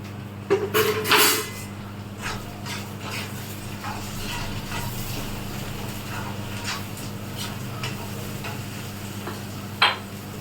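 Tomatoes frying in a pan for a simple kara kuzhambu, a low continuous sizzle with a few stirring clatters of utensil against pan near the start and end.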